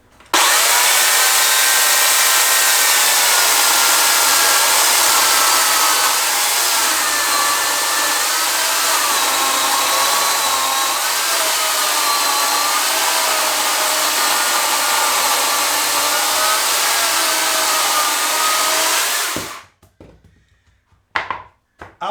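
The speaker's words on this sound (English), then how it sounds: "This is a 10-inch oak log. Let's see what it cuts this like as a first cut." A Makita UC3041A 12-inch corded electric chainsaw cuts steadily through a 10-inch oak log, a loud continuous whining buzz for nearly twenty seconds, then cuts off abruptly into near silence.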